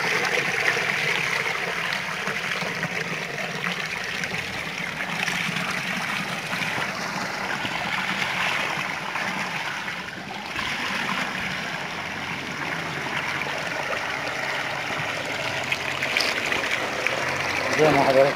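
Groundwater gushing from a pipe to refill a plastic-lined fish farm pond, a steady broad rushing and splashing that runs without break, fairly loud and close.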